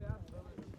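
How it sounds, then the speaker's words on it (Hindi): Horse hooves clip-clop briefly at a tourist spot in Sonamarg, Kashmir, near Thajiwas glacier, close and under loud talking voices. "देखो घोड़ा बोल रहा है"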